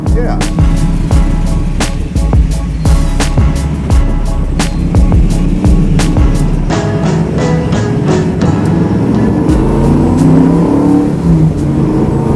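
A 750 hp supercharged Chevy Blazer on a full custom chassis accelerates hard, its engine roaring loud and steady with sharp transient cracks throughout and a brief shift in tone partway through.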